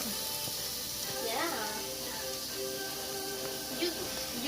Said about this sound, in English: I've had oil cooking the beef